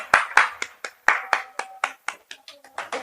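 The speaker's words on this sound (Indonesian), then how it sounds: "Tepuk tangannya dong buat dia semua." A small studio audience claps in brisk, uneven bursts to welcome two guests onto a university student podcast. The individual hand claps are close and distinct, thinning out toward the end.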